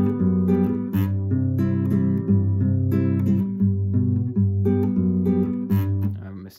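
Guitar plays the third part of a song, a steady run of strummed and picked chords with a low bass line, close and continuous with no talking.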